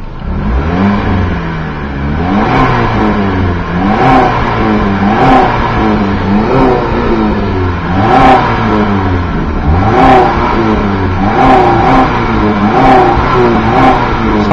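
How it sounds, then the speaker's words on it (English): A 2001 Chrysler PT Cruiser engine revs repeatedly, climbing and falling in a steady rhythm of loud, close bursts with no talking. "turn off the ventilation so we can hear the engine"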